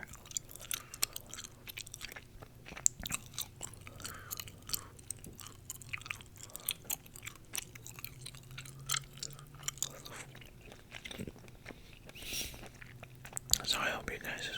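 Gum chewed right at the microphone in a quiet whispered setting, with wet, sticky smacks and clicks repeating in a steady rhythm throughout, soft whispering drifting in under the chewing.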